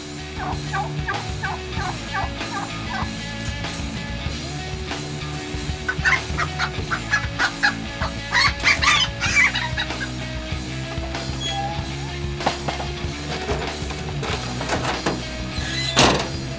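Chickens and turkeys in a poultry barn at the Monroe County Fairgrounds keep up a dense, continuous chorus of clucks and gobbles, with many birds calling at once near and far.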